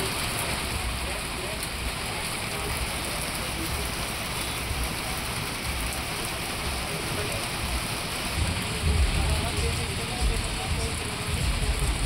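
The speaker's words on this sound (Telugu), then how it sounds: "అంతలోనే చినుకులు పెద్దవయ్యాయి. భారీ వర్షం పడింది." Heavy rain pours down steadily in Vijayawada, a dense hiss of drops on surfaces that swells slightly louder near the end.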